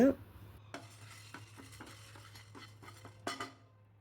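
Soft, quiet scraping and tapping of a spoon stirring dry spices and lentils roasting over low heat in a pan, with a low steady hum behind it.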